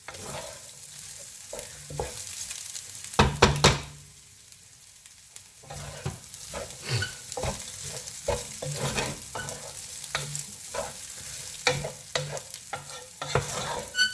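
Stir-fried noodles with fresh vegetables tossed in a pan, with rhythmic scraping and clattering from the tossing over a continuous sizzle and one brief quieter pause, no voices.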